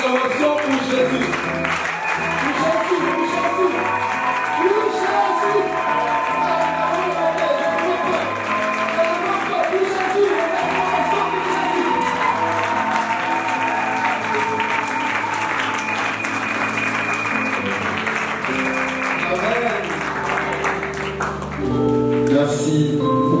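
A church congregation at an evangelical gathering in Metz applauds and cheers for a long, sustained stretch. Music and raised voices run throughout, and the sound fades out at the end.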